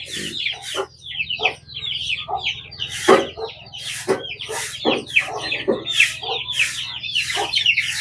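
Native chickens clucking close by in a farm yard, a busy run of repeated short clucks and squawks from several birds over a low steady hum, with faint voices now and then.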